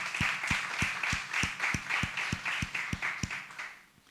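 A church congregation claps in unison, slow and steady beats about three per second, with a rushing spread of hands behind each beat, moderately distant and fading at the end.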